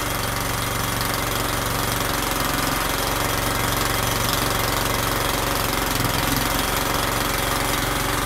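A Honda GX160 small engine fitted with a Geet fuel reactor runs steadily and loudly, a dense, constant rattling drone with a fast knocking pulse and no pauses.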